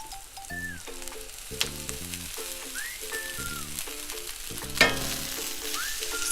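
Rice frying and being stirred with golden-brown onions in hot oil, a steady close sizzle with scraping stirs and a brief louder clatter near the end, heard beneath a bed of background music.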